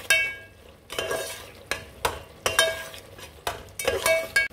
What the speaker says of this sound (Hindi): अब इसको हम थोड़ी देर मसाले को अच्छे तरीके से भून लेंगे